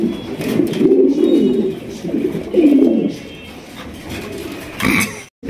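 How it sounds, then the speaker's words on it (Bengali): Indian Bombay pigeons coo in a close, loud series of throaty low rolling calls, several bursts with short gaps, followed by a brief rustle at the end. "জিয়া ভাই, বোম্বাই কবুতর মাশাআল্লাহ, ইন্ডিয়ান বোম্বাই"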